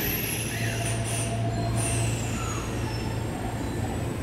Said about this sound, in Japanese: 2番線から電車が発車します。